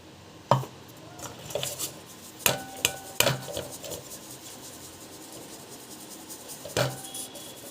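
Homemade coriander powder, tinted with a little turmeric, shaken through a sieve: scattered scraping and tapping knocks, some sharp and close, others softer rasps, spread irregularly over the span with quiet gaps.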